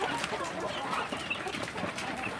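Free-range village chickens clucking and pecking busily while feeding, a dense scatter of soft close clucks and scratchy peck sounds in an outdoor coop, with no clear talk.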